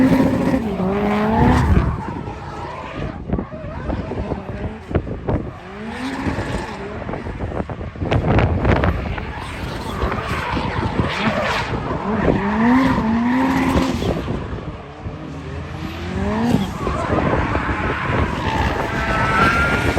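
Drift car with a welded differential sliding around a track during practice before a drifting competition, engine revving hard and tires squealing continuously and loudly, with pitch rising and falling through repeated slides.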